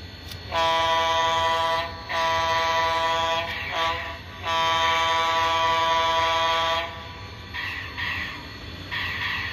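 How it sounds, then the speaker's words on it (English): Air horn from a sound decoder in a brass SP AC-9 2-8-8-4 oil-burning model steam locomotive, three long loud chord blasts with brief gaps, then fainter shorter toots fading out. "you have to press F3 to activate the air horn"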